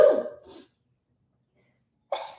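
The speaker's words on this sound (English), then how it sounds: "I got to sneeze." A person sneezes, a sharp close burst followed by a short silence and a second breathy sound at the end.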